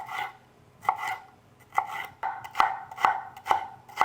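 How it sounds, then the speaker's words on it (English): A knife chops green pepper into small cubes on a board, about eight crisp, close taps in an uneven rhythm with quiet gaps, with no voices. "Cut around the sides and then get them into really nice small cubes."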